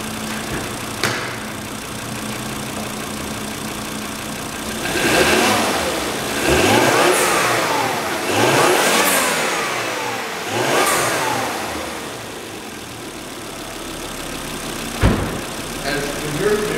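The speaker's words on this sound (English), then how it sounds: "I'm just going to rev the vehicle a little bit just so you can hear exactly how it sounds." A 2007 Volvo XC engine idles, then is revved several times in a row, each rev swelling and falling back, heard close up, with a sharp knock near the end.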